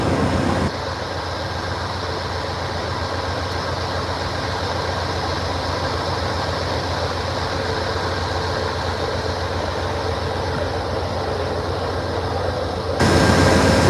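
Amtrak California Zephyr Genesis diesel locomotives in Phase VII paint sit at a station stop in Ottumwa, Iowa, giving off a steady, nearby engine drone that holds level throughout and swells louder at the very end.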